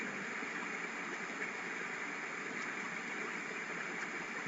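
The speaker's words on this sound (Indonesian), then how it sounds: "Selanjutnya ada 2 buah motor DC sebagai motor kanan dan kiri." A pair of DC motors run by an L298 driver whir in a steady, even hum that holds unchanged for the whole stretch, with no voices.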